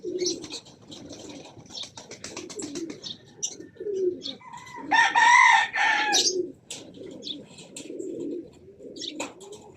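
Racing pigeons cooing and chirping in scattered bursts, with a brief flutter of wings in the middle and faint voices nearby.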